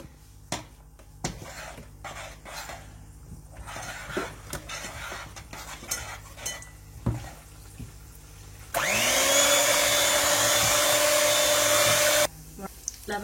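An electric mixer starts up partway through, whirring steadily and loudly for a few seconds as it beats coconut crêpe batter with flour, after earlier quieter clinks and handling noises, then cuts off abruptly.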